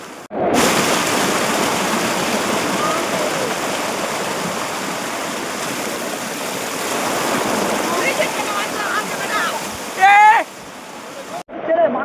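Motijharna waterfall in Jharkhand, India, pours continuously in a steady rush, a broad loud roar close by, with brief splashy bursts near the end.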